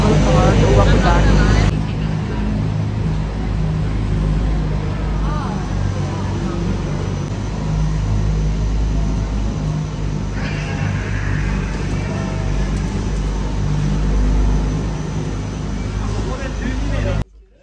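Steady engine-like rumble inside a Hakone Ropeway cable car on the ride to Owakudani, a continuous close mechanical drone that holds loud throughout with a slight shift midway, fading off at the end.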